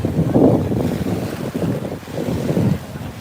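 Waves washing onto a beach known for fossilized shark's teeth, a steady rushing surge mixed with wind buffeting the microphone, fairly close and continuous.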